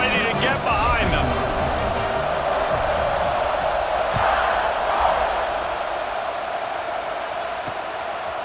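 A stadium crowd in EA Sports College Football 26 roars in a sustained, dense wash of cheering just before a kickoff, steady throughout and heard with no clear talk over it.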